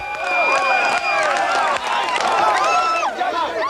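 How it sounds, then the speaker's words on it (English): A large crowd cheers and shouts in an enthusiastic reception during an interactive movie-effects entertainment show, loud and continuous with dense overlapping voices. "The crowd must first deliver an enthusiastic reception for the bug blasters when they arrive on the scene to save the day."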